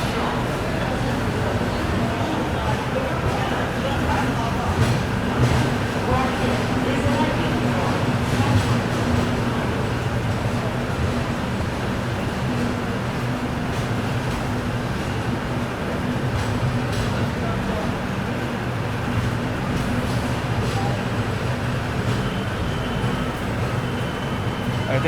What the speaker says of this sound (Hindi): चलिए निकल चुकी ट्रेन फिलहाल अपनी जो है आगरा कैंट से।